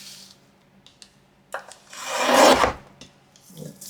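Paper is trimmed for a junk journal: a few light ticks, then a loud rasping cut swelling over about a second, followed by faint rustling, close and with no talking.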